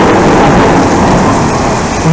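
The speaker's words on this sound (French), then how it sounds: "Il y a de la bonne pluie." Heavy rain pours in a dense, steady broadband hiss during a thunderstorm near Aurillac in August, loud and close with no voices.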